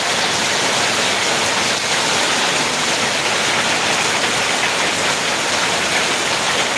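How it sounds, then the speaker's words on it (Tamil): Heavy rain pours down steadily in a town in Ariyalur, a dense, constant hiss without breaks. "நம்ம ஊரில் செம்ம மழை பெஞ்சிக்கிட்டு இருக்குங்க"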